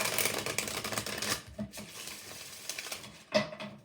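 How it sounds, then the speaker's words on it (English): Rapid riffling and soft slapping of tarot cards being shuffled close by, a steady flurry with brief pauses and a sharper snap near the end. "So I'm going to shuffle."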